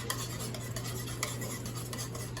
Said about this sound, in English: you just want to beat the eggs and the egg white and the egg yolk in together